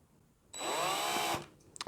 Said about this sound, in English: So we'll just start it with this centre drill.